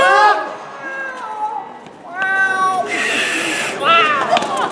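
A cat meows several times in drawn-out, wavering cries, loud and close, with a rush of noise partway through.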